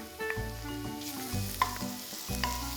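Chopped garlic sizzles in a pan with softened onions, a steady close crackle and hiss of frying with light stirring scrapes, no voices.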